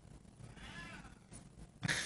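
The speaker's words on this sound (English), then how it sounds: "the meowing in the background is Sam" A cat meows briefly near the end, a short sharp cry rising over quiet room noise.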